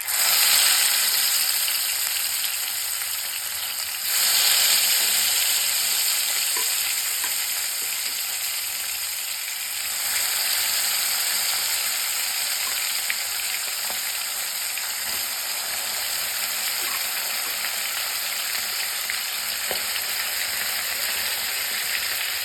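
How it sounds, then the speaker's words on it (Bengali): Koi fish frying in hot oil with black cumin, giving a loud, steady sizzle that crackles without pause throughout, up close, with faint clicks now and then. "তেলটা খুব ভালোভাবে গরম হয়ে গেছে। এবার এক এক করে আমি মাছগুলো সাজিয়ে দেব।"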